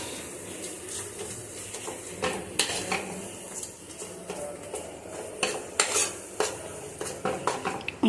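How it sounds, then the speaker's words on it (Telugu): Gongura paste being stirred with oil in a pan: a spoon repeatedly scrapes and knocks against the metal over a soft sizzle, with irregular louder clinks close by. "వేసాక ఒకసారి కలియబెట్టి"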